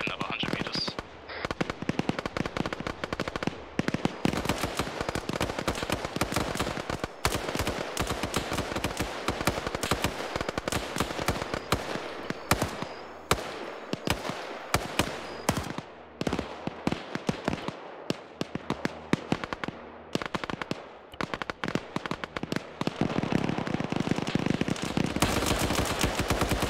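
Artillery explosions from a fire mission in a military video game, a dense, continuous barrage of rapid booms and cracks that keeps up nearly nonstop, loud and close, with brief lulls and voices talking over it.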